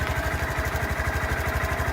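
Stock 2018 Honda GROM motorcycle engine idling close by, a steady rapid low thumping pulse with a constant mechanical hum and no talk over it.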